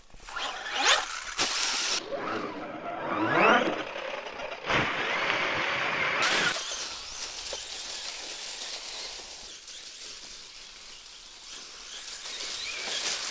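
A Traxxas Stampede RC truck on 3S jumps off a table, its small electric motor whining up in sharp rising bursts, then cutting off and giving way to quieter running and outdoor hiss.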